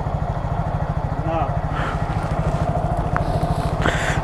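A motorcycle engine runs at a steady, rapid chugging idle, close and loud throughout. A voice speaks briefly over it.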